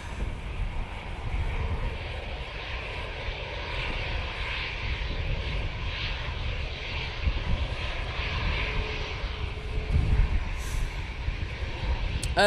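An EasyJet airliner takes off at Manchester Airport, its engines giving a steady broad distant roar that holds throughout.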